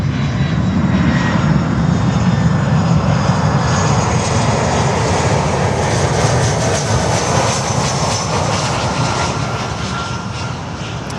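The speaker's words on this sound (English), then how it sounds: "So that's a Global X flight." A Global X cargo airliner at Miami airport roars loudly and continuously with its jet engines, a broad, steady rumble that fades slightly toward the end, with no voices over it.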